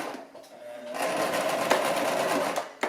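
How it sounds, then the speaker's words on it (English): A Brother LX-3125 sewing machine stitches fabric for an apron, its steady rapid mechanical whir running close and continuous, briefly slowing before picking up again. "Just keep sewing."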